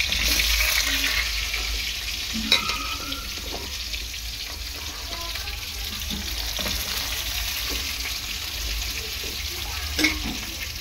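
Pointed gourd (potol) frying in oil for a pumpkin and potato labra, a steady broad hiss of sizzling with a few sharp clinks and splashes near the start and end, close and fairly loud throughout.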